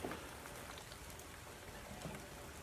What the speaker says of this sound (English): starting to rain outside.